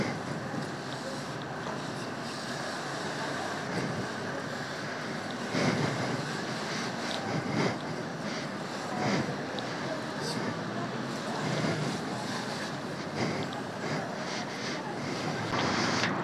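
Shampoo is sprayed from a hand pump bottle onto a 50cc Cup motorcycle during a wash, giving a steady hissing spray with repeated squeeze bursts that carry on continuously under broadband outdoor noise.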